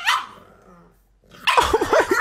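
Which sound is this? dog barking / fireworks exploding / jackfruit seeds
dog barking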